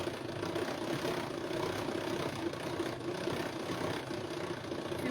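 An electric mixer whips cream into chantilly with a steady, even motor whir that runs unbroken throughout, with no talking.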